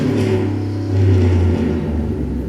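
Car engines revving in the street, a loud steady low rumble that swells briefly in the middle, heard alone without talk.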